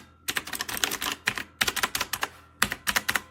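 Rapid clicky typing on an AULA F2088 typewriter-style mechanical gaming keyboard with blue switches, close and loud, in three quick bursts separated by short pauses.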